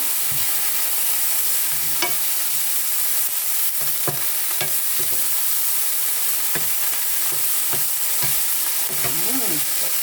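Dried fish maw stir-fried in a pan with soy sauce and sugar, a steady hiss of frying broken by repeated quick clinks and scrapes of the utensil against the pan, close and continuous.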